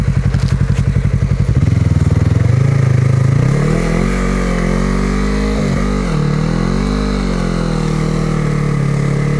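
A motorcycle engine stuck in sand, loud and close, starting with rapid thumping revs that settle into a strained, wavering drone as the throttle rises and falls.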